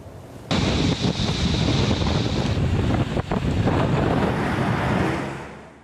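A storm on the Izmir coast, with strong wind roaring against the microphone and big waves crashing, a loud, sustained rush with a few sharper bursts.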